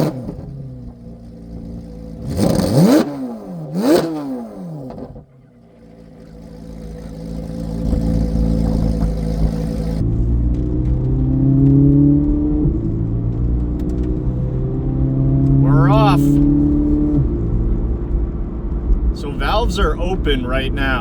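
A modified C8 Corvette Z06 cruises at about 1600 RPM with its exhaust valves open. A loud, low, steady exhaust drone runs under the talk, with a couple of sharp sweeping revs early on and a brief dip before the cruise.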